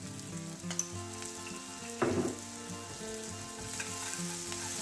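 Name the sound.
salt and brown sugar caramelising in a frying pan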